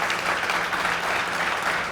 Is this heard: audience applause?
yes